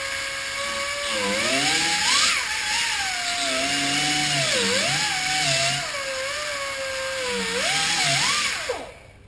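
A small rotary cutting wheel trims a cured nose repair, giving a loud, close, continuous high-pitched whine whose pitch dips and rises as it bites into the material, then cuts off abruptly at the end.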